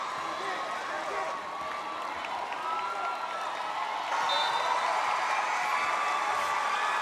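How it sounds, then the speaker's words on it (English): Sustained crowd roar and cheering fill an indoor arena during a 2023 PVL Invitational Conference volleyball semifinal, a steady loud wash of voices that swells louder partway through, with a commentator talking over it. "the crowd roaring"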